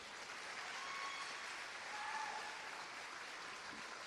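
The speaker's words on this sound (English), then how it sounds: "So please give them all a big round of applause." Graduates receive sustained applause from a crowd, a dense, even clapping that carries on steadily from start to finish at a moderate distance.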